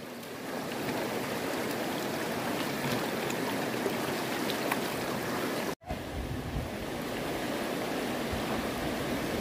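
A clear river near Banug Falls in Palawan flows over slippery rocks, a steady, fairly quiet rushing wash broken by one brief dropout.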